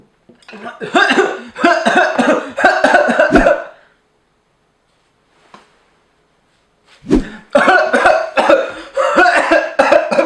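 Two loud bursts of repeated coughing, a rapid run of harsh hacks, then a pause of near silence before another coughing fit.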